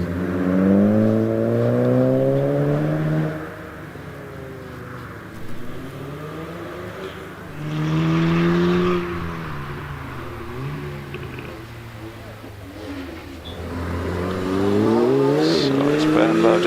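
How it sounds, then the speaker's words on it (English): Volkswagen Golf R rally car, number 54, accelerating hard away from the start line at the Prescott hillclimb, its engine rising in loud sweeping revs through several gear changes, then easing and surging again. "Ben Bowditch heads away from the start line in his Volkswagen Golf R, car number 54."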